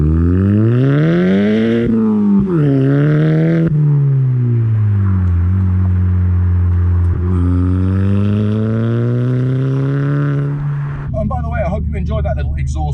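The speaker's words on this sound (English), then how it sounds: "Enjoyed that little exhaust shot clip just then" Straight-piped Mk5 Golf GTI exhaust revving loud and close, the tone rising and falling through several sustained pulls with brief dips between, ending in a rougher rumble.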